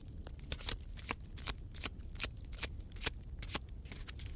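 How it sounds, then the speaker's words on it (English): A deck of cards is shuffled up close, sharp riffling bursts repeating in a steady rhythm of rapid flicks, quiet overall and heard alone without speech. "What I want you to do now is shuffle the deck a few times."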